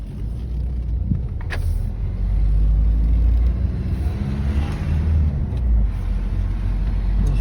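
A Ford Focus engine rumbles and revs at close range, a low steady drone that swells slightly mid-way before settling, with no talking.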